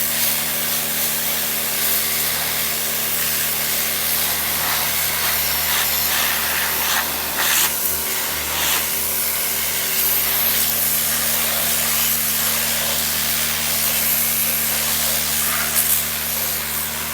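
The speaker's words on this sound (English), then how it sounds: "Pressure washer here, powered by that Blue Eddy power unit" A pressure washer driven by a Blue Eddy power unit sprays steadily on a PD4104, a loud continuous hiss of water with a constant engine drone underneath, no talking.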